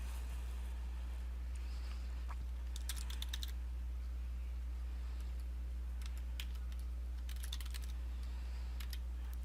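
Computer keyboard keys clatter in two short bursts of quick typing while user information is entered, over a steady low hum of room noise.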